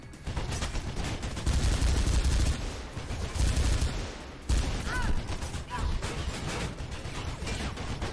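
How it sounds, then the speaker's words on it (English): Video game gunfire in Mirror's Edge: dense bursts of rapid shots and rattling fusillades crowd a busy, loud mix of in-game noise, nearly continuous with brief lulls and no talk. "I'm shooting straight at him and I still can't shoot him"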